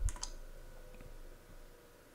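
A computer mouse gives two quick, quiet clicks close together at the very start, followed by faint room hum and near-silence.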